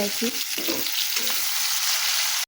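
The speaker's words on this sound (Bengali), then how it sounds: "পেঁয়াজ টমেটোটা ভাজা হয়ে গেছে" Chopped onion and tomato fry in a pan for a spicy home-style yam and prawn curry, a loud, close, crackling sizzle with a few stirring scrapes, with no voices, cutting off abruptly.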